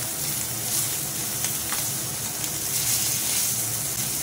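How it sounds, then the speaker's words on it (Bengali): Ilish fish frying crisply in hot oil in a kadai gives a continuous close sizzle with fine crackling pops, even in loudness throughout and with no voices. "আর একটু কড়া করে ভাজবো, আবার একটু উল্টো পাল্টে দেবো"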